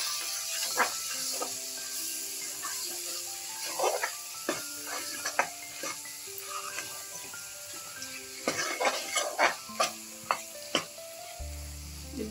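Homemade masala sizzling and frying in a pan for vegetable biryani, a steady close hiss with occasional stirring scrapes and clinks, no talking.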